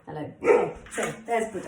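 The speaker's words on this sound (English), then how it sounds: "life happens when you're videoing, the dog barks" A pet dog gives a few short, close barks indoors, mixed in with someone talking.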